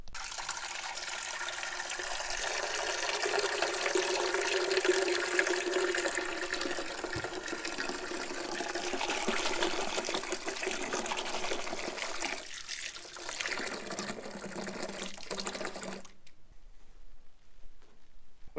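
Tap water runs steadily as a container is filled indoors, a continuous close splashing flow that ends abruptly near the end, leaving near-silence.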